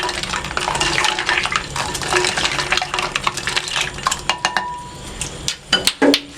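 A spoon stirs phalsa juice with ice, clinking against the vessel in quick, busy strokes that thin out into a few sharper, separate knocks at the end, with no talk.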